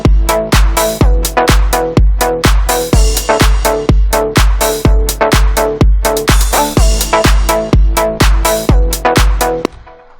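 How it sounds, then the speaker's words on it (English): Punchy electronic drums drive a steady beat under a bright, plucky synth line, each hit and pluck sharp and loud with no voices, ending abruptly after about ten seconds. "So just the drums and the synth sound like this."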